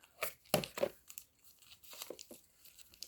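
Plastic film wrapping on a diorama being torn open by hand, giving a few sharp crinkling rips and crackles, close but quiet, in irregular bursts with pauses between, and no talking.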